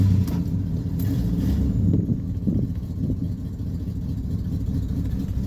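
A carbureted Ford big-block V8 idling rough just after a cold start with no working choke, a loud, uneven low rumble with a few irregular stumbles, heard close with no talking.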